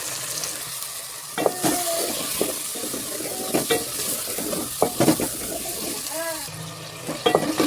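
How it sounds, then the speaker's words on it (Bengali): Potatoes stir-fried with cumin and coriander powder for a Bengali fish curry, a sizzling pan with repeated loud spatula scrapes and clanks, plus a brief tonal squeak, no clear talk. "এখানে আলুটা খুব ভালো করে কষিয়ে নিই"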